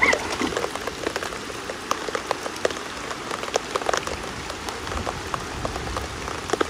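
Heavy rain pours down steadily and close by, a dense continuous patter of drops striking surfaces with no voices.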